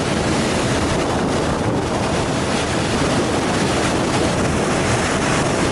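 Cooling outflow water pours down a waterfall by a Bangkok power plant, heard from a Chao Phraya express boat as a dense, loud, continuous rushing roar mixed with heavy wind buffeting.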